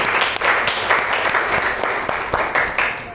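A small group in a classroom claps together in brisk, uneven bursts, the applause close and lively throughout.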